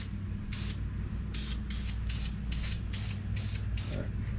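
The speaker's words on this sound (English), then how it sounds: "I'm just going to paint the interior of the cab first" Short bursts from a spray can or airbrush paint the cab interior of an AMT Peterbilt 352 Pacemaker cabover model truck, about eight quick hisses in a loose rhythm over a low steady hum.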